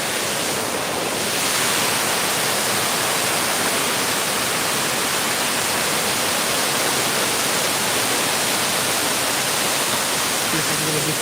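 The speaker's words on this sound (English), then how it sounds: "here's the waterfall" Waterfall in the woods at night, a loud, steady broadband rush of falling water that fills the whole stretch without a break.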